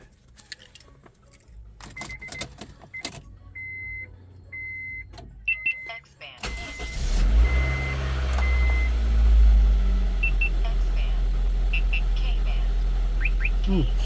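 Keys jangle and a few chimes sound before a Honda CR-V engine cranks and starts after a spark plug, cap and rotor replacement, then settles into a steady close idle.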